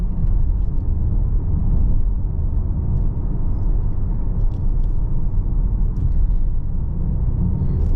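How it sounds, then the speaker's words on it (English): A moving 2025 Mazda 3 Hatchback cabin fills with a steady, loud low rumble of road and exterior noise and a constant wind hiss. It is continuous and unbroken, with no talking. "It's not a quiet cabin. I mean, you have some exterior noise, you have some wind noise"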